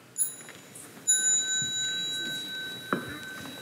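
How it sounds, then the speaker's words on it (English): A small meditation bell at a mindfulness gathering rings twice, each strike a clear sustained tone that lingers and fades slowly in a quiet room, with a soft knock near the end. "So when you hear the sound of a small bell"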